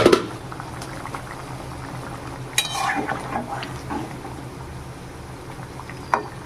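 Taro simmers in a covered pot, a soft, steady bubbling hiss with a sharp clink at the start and a few utensil knocks, close and without voices.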